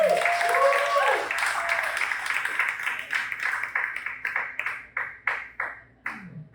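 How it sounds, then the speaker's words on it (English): A comedy club audience claps for comedian Chad Fogland, a dense burst of applause under a brief voice at the start that thins out into scattered individual claps and fades away. "Big round of applause for Mr. Chad Fogland."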